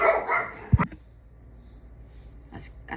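Small dogs give a single close, sharp bark burst near the start, scared by wind banging a door, followed by quiet room noise and a faint later yelp.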